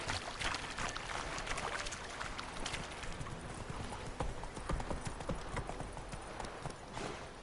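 Roach, the horse in the video game The Witcher 3, gallops with steady, rapid hoofbeats that stay close and continuous, layered over a busy outdoor ambience.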